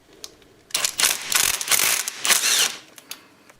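A ratchet wrench loosens the 10 mm bolt on the guide wheel of a Honda Grom motor during top end removal, giving several bursts of rapid, close clicking, loud and alone.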